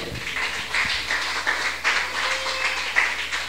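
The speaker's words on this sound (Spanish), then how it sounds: "Denle un aplauso al Rey de la Gloria." Church congregation applauding during a Spanish-language sermon on the tabernacle and the Ark of the Covenant, a steady wash of mid-distance clapping sustained throughout with no speech over it.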